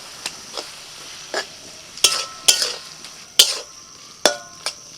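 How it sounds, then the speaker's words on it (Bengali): Red amaranth greens being stirred with spice paste in a cooking pan, with soft sizzling and a series of utensil scrapes and clinks against the pan, some sharper and louder than others, close up with no talk. "শাকের মধ্যে বাটাটা দিয়ে নাড়াচাড়া করতে করতে জলটা শুকিয়ে গেছে"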